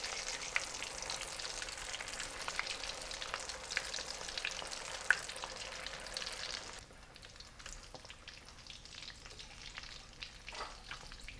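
Potato vada frying in oil on high heat, a dense steady sizzle with scattered pops and crackles, close and fairly quiet, easing slightly partway through.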